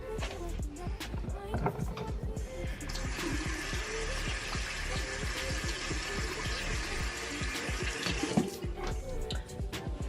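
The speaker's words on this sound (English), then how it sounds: "Now I'm gonna wash my hands because my hands are oily." Oily hands being washed under a running tap during a skincare routine, a continuous close splash of water with rubbing and handling noises throughout, faint voice-like sounds underneath.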